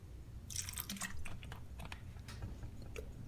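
A small splash of distilled white vinegar is poured into a miso and lemon juice coleslaw dressing, heard as a faint, brief liquid pour with light drips in a quiet kitchen.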